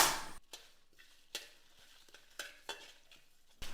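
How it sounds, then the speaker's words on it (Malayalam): Dried red chillies and bay leaf dry-roasting in a pan over a low flame, heard as soft, scattered scrapes and taps of stirring with near silence in between. "ഇനി നമ്മളിത് ഫ്ലെയിം ഓൺ ചെയ്തിട്ട് നമ്മളിത് ലോ ഫ്ലെയിമിൽ നന്നായിട്ടൊന്ന് റോസ്റ്റ് ചെയ്തെടുക്കാൻ പോവുകയാണ്"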